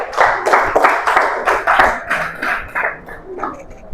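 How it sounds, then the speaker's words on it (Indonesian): A classroom of students claps for a classmate in rhythmic unison, about a dozen loud, evenly spaced bursts that fade out near the end. "Tepuk tangan dulu untuk Nikesia."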